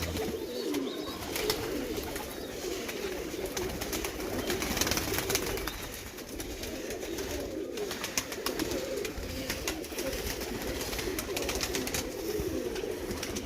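Pet pigeon cooing in soft repeated low calls, fairly close, with faint outdoor background noise and no talking.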